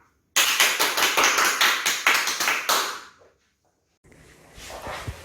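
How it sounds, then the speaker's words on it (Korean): Dense applause from a children's church service congregation rings out for about three seconds, loud and close, then stops abruptly, followed by quiet room noise. "우리 박수로 이동영 목사님 맞이해 보도록 하겠습니다"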